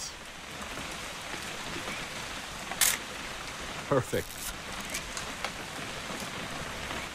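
Steady rain patter in the video game What Remains of Edith Finch fills the background, a soft continuous hiss with a few brief louder splashes, while a voice speaks once briefly.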